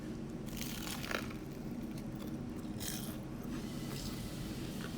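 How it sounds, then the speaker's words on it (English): Biting into a crispy fried chicken curry spring roll gives a few crackly crunches over a dense, noisy background, close to the microphone with no speech. "the crunch is so good"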